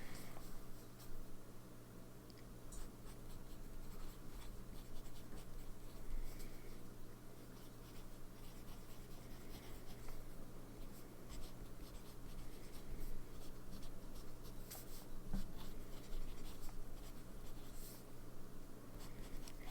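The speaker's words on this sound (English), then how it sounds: "So let's see how it writes on this Cosmo Airlight paper." A fountain pen with Diamine Shimmertastic Dragon's Blood shimmer ink scratches softly across Cosmo Airlight paper, a faint, close, continuous writing sound with small strokes and pauses throughout.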